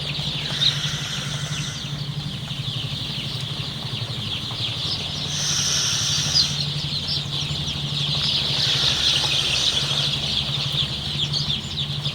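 Sonali super hybrid chicks in a brooder, their soft, continuous peeping and clucking filling the space over a low steady hum, with no talk.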